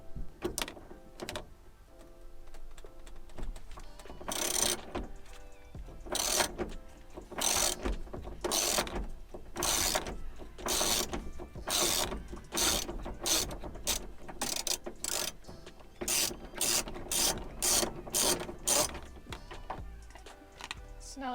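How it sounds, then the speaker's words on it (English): Ratchet clicking in repeated bursts while unbolting a T50 fastener on a 1995-1999 Chevy K1500 truck door panel, close and steady with brief pauses between strokes. "And then we can unbolt this entire panel."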